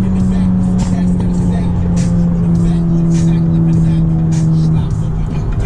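Audi A3 turbo hatchback accelerating on the road, a continuous loud engine drone with a rising pitch, heard from inside the car and broken by a shift change.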